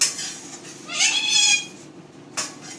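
A pet cat meows in a home kitchen during cooking: a close, loud meow in the middle and a shorter one near the end, over a quiet room.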